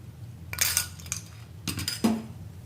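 A few quick, bright clinks and clatters of two ice cubes dropping against a glass or container, in two short bursts close by.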